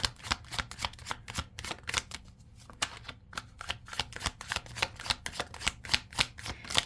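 Tarot cards are shuffled over and over at close range, a dense run of crisp riffling and slapping bursts that keeps a steady, uneven rhythm and never stops.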